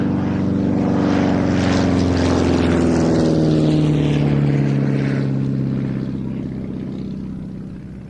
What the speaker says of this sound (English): In a little low-powered aeroplane such as this, flying an aerobatic sequence along these lines is all about maintaining your energy